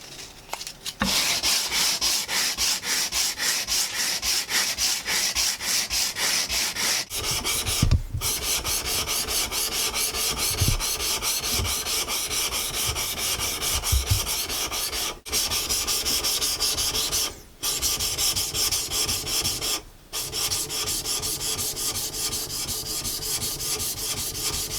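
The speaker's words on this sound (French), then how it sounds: "affûtage de la lame" A hand-forged Japanese yanagiba kitchen knife blade is polished and sharpened on a stone in fast, rhythmic back-and-forth scraping strokes, close and continuous with a few brief pauses, with no talking.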